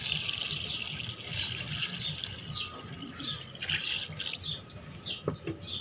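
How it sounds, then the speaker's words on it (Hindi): Water is poured into a pot of potato beef mince with tomatoes and ground spices, making a soft, continuous trickling and splashing that stays fairly faint throughout, with a few clinks near the end. "अब इसमें पानी डाल देना है।"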